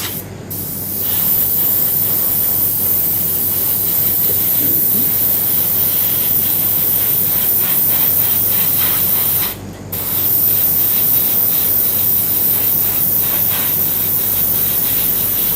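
An airbrush sprays paint onto a Petit Rise Gilgamesh figure's hair, a steady close hiss running nearly continuously with one brief pause near the end, no talking.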